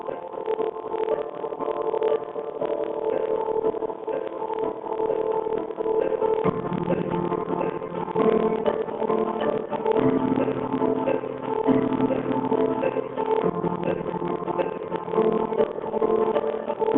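A 2007 Porsche Cayman S engine runs steadily throughout, a continuous mid-pitched hum with some fluctuation and no speech over it.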